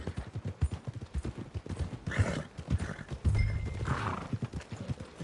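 A horse at the stables in a PS4 video game, with a steady run of clip-clopping hooves and a couple of whinnies rising over the rhythm, fairly close and loud.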